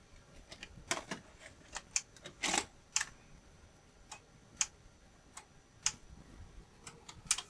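A JVC BR-D85E Digital-S professional video recorder mechanism, struggling after a fault, ticks and clicks in irregular sharp mechanical bursts as it tries to play a tape, close and without talk.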